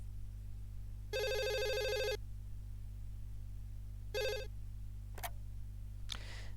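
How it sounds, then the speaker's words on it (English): A telephone rings in the Wii game Another Code R, two bursts of an electronic bell trill over a steady low hum, followed by short clicks. "Phone call."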